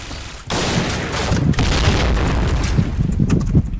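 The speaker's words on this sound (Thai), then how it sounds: "โดนระเบิดสุด" Heavy booming blasts and crackling bursts roll in one after another, a dense barrage of loud video game explosions with no voices.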